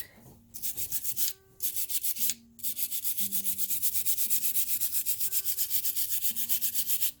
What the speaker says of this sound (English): I'm just going to continue coming through, burnishing this up.